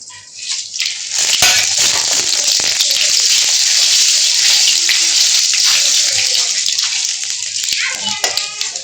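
Four dry red chillies, cumin seeds and bay leaves hit hot oil in a home Bengali kitchen, setting off a loud, steady hiss and crackle that runs for several seconds while voices talk nearby.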